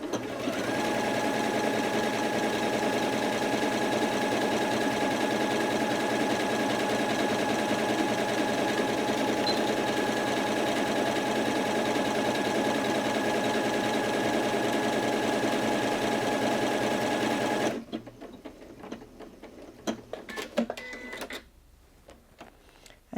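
A Janome Atelier 6 Anniversary Edition sewing machine stitches an elongated stitch at length 3, a close, steady mechanical hum with fast needle rhythm for about eighteen seconds, then stops, followed by quieter clicks and handling sounds.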